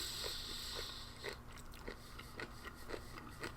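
Someone bites and chews a piece of canned pineapple core from a Malaysian 24-hour ration, producing faint, close, repeated crunchy chewing sounds in an irregular rhythm.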